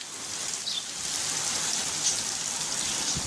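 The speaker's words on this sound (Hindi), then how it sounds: "अब तक कराची में तेज बारिश का सिलसिला जारी है।" Heavy rain pouring steadily in Karachi, a dense, even hiss of drops on surfaces that stays loud and continuous throughout, with no voices.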